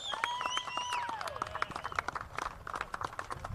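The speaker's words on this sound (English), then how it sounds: "a big round of applause for Gymkhana Club and hosting this event" Scattered clapping from a crowd at a cricket prize giving for a Bangladesh versus England match, brief and mixed with voices and other background noise.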